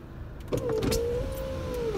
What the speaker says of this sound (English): windows down it's the roof windows up there you go